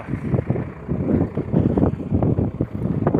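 Steady wind buffets the microphone in a sunflower field with a low, rumbling roar that surges and fades irregularly throughout.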